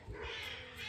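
Backyard chickens kept shut in their coop on a cold day give a short, faint burst of agitated calling, heard alone.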